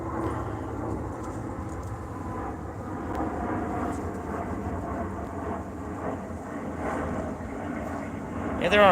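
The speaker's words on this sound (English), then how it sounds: "there are a lot of planes going by right now, isn't there?" Airplanes rumble overhead in a low, steady drone that rises and falls in the background, with people talking over it.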